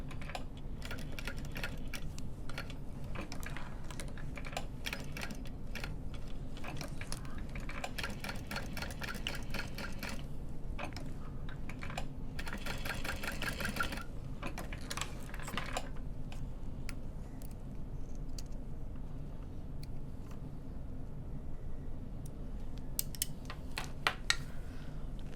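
Sewing machine running a box stitch on a handbag strap, a fairly quiet rapid mechanical whirr in short bursts and pauses, with faint clicks and no talking.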